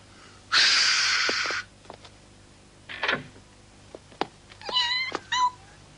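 A cat gives a loud, raspy yowl, followed by scattered snorts and a few short, higher meows, with quiet pauses between.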